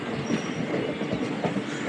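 The Ernakulam Express, running from Bengaluru toward Ernakulam, rumbles steadily with a continuous rolling clatter of wheels on rails, heard close and loud throughout.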